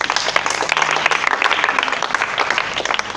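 A church congregation bursts into sustained applause in acclaim, dense and steady clapping from many hands filling the room for the whole stretch.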